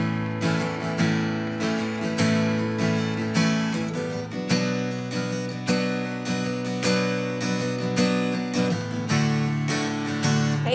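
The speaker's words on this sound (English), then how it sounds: "So this strum pattern is gonna sound like this." An acoustic guitar strums a steady rolling 6/8 pattern for a song, its down-up strokes repeating in even groups over about ten seconds, close and clear with no talking.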